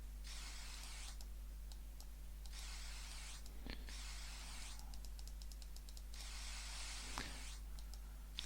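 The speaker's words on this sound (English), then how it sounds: "get the spray paint, and use it to paint here on the wall" Spray paint hissing onto a wall in the puzzle game AE Mysteries Trapmaker, with several long steady bursts of spray separated by short pauses and a few small clicks.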